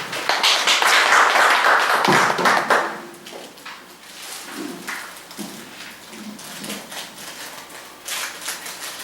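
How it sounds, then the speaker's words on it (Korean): Loud applause from a crowd for about three seconds, then fading into scattered claps and quieter room noise. "박수로 맞아주십시오"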